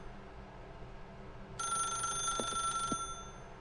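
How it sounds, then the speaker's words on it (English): A telephone rings in The Stanley Parable video game, a bright electronic bell tone that starts abruptly after a quiet stretch and sounds once for just over a second over a low background hum. "then pick up the phone."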